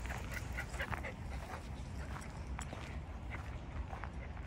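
Dogs romp and play together at a mountain dog park in a highway rest stop area in Korea, with busy scampering and faint yips over a steady outdoor background.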